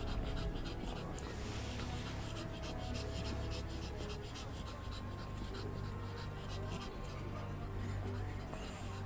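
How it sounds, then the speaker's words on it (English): A dog pants quietly and steadily, soft rhythmic breaths close by under a faint constant background hum, with little else standing out. "I can hear her panting."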